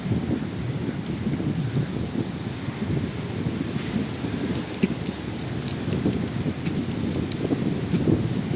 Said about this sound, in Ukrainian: Дощ.